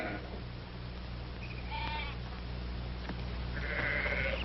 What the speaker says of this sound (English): Now, Drummond, get those sheep out now.